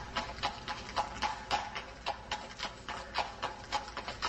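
Horse hooves clip-clop on the ground in a small village in the Kyrgyz Republic, a loud, close, steady rhythm of sharp knocking steps at roughly two or three per second, with no voices over it.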